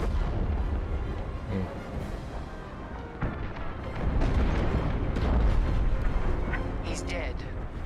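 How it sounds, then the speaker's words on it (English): A frigate explodes during a space dogfight in Star Wars: Squadrons, with deep, rumbling blasts that swell and roll on under voices and scattered crackling bursts. "The frigate is about to explode!"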